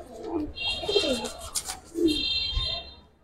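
Giribaz racing pigeons coo in low, throaty bursts nearby, several overlapping calls alone with a faint high whine in the background.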